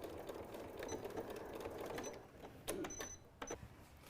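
A sewing machine top-stitches down fabric tabs on a stuffed nativity piece with a soft, steady whir, then a few sharp clicks and taps toward the end.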